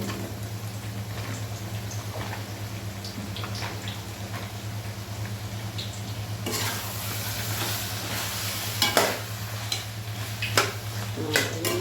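Beans, radish and potato being sautéed in a pan, a soft sizzle over a steady low hum that grows louder partway through, with scraping stirs and a few clanks toward the end.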